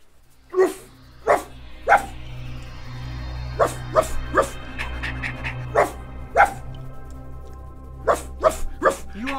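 A man imitates a dog with his voice, giving a run of sharp, loud barks in short bursts with brief pauses, close up over a low steady hum.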